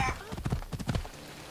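Horse hooves clip-clop in a quick rhythmic series of close thuds in Assassin's Creed Odyssey, fading out after about a second.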